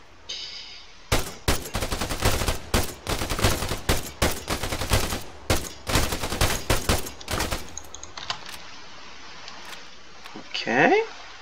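Sustained gunfire in the military combat game Arma 3: a rapid string of loud, close shots and bursts over several seconds, then a lull with a distant whooshing sound near the end.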